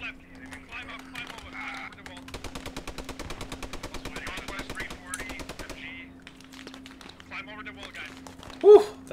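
Long bursts of rapid machine gun fire rattle across a field in the Post Scriptum World War II game, a steady mid-distance chatter under a player's voice, ending with a brief louder sound.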